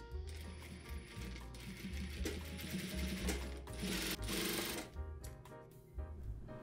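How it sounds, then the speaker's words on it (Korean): A sewing machine topstitches along the edge of a shirt collar with a quiet, rapid mechanical clatter of needle strokes. The stitching runs steadily with small bursts and pauses as the fabric is turned. "이제 겉카라 쪽에서 2mm 정도 간격으로 끝에서 상침 해주시고요"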